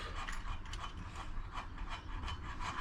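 Metal sockets and tools clatter and ratchet as they are handled in preparation for clutch case work on a 2020 Yamaha R1 motorcycle, a steady close-up jumble of small mechanical clicks with no talking.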